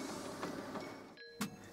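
A Canon Pixma iP8750 printer runs a printhead cleaning cycle, giving a steady mechanical whir and hum with a tonal motor whine, a short drop into quiet, then a sharp clack.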